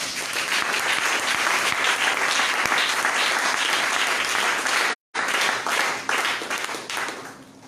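A church congregation breaks into loud, sustained applause, with dense continuous clapping for several seconds, a brief cut, then more clapping that tapers off toward the end.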